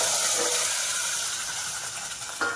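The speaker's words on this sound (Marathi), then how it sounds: "आता आपण हे मटण ओतून घ्यायचं." Mutton poured into hot oil for a black rassa curry, a loud, steady sizzling hiss that fills the space and fades slightly, close by.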